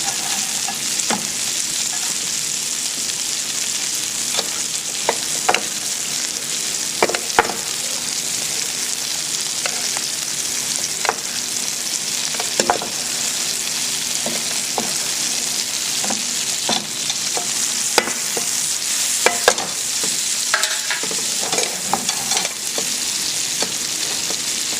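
Sole fries in a pan over high heat, a continuous loud sizzle broken by frequent crisp pops and spatters, heard close up for a long stretch with no talking.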